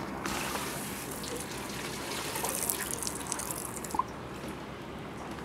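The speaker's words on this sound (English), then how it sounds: "A nice little sprayer." Water from a small outdoor rinse sprayer on an overwater villa deck at a Bora Bora resort patters and hisses continuously, with a few splashy drips standing out, fairly faint and heard without speech.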